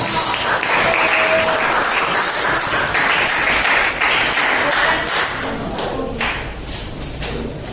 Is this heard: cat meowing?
no